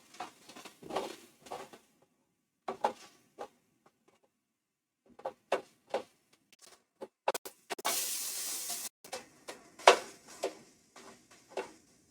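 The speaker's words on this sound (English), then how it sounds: "Frying up the meat" Chicken pieces frying in a pan for adobo, sizzling in short bursts with a louder sustained hiss in the middle, alongside scattered clinks of utensils against the pan; no talking.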